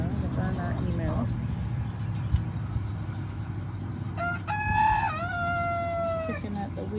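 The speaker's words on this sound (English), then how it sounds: "There's the guinea fowl on the other side of the fence." Guinea fowl call on a farm: a loud, harsh, repeated cry rises over background chatter and low outdoor rumble, close by.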